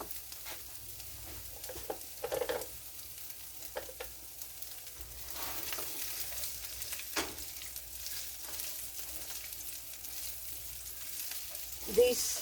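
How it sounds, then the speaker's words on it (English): Chopped onions and garlic sizzle in a frying pan as a soft, continuous hiss, with occasional scraping stirs and light clinks from a cooking utensil, fairly quiet and close. "we're going to be adding our aromatics of our onions to this pan"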